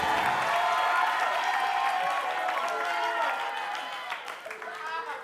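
Studio audience clapping on an Indonesian television comedy show, a dense sustained round of applause that slowly thins and softens toward the end, with voices mixed in.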